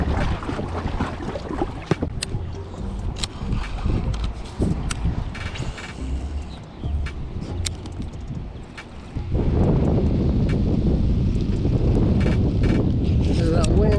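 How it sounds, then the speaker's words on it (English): Wind and current on the water heard from a kayak while fishing for silver bass, gusting microphone buffeting and splashing that grow louder and steadier in the second half, with brief knocks and no talk. "This is that wind and the current combined."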